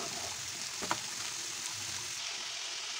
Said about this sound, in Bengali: এবার দিয়ে দেবো বাঁধাকপিটা। তারপর একটু নেড়ে চেড়ে দেবো।